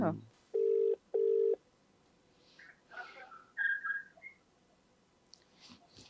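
A phone call goes out: two long, steady ringback tones sound from a handset, followed by faint chirpy electronic tones and soft murmurs, quiet and close.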